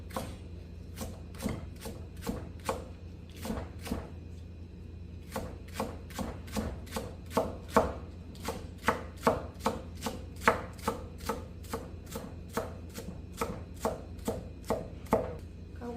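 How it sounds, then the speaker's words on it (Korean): A knife finely chops kimchi for dumpling filling on a cutting board, making rapid, even, close taps in long rhythmic runs with brief pauses between them and no talking. "이렇게 해서 쫑쫑 썰어 주시는 거예요"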